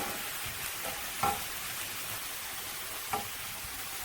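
Garlic sizzles in a pan as the base for shakshuka, a steady quiet frying hiss with two faint metallic utensil clinks and no talking.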